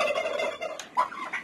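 Several turkeys in a small pen give a run of rapid, rattling gobbles, loud and close, with a sharper gobble rising near the end.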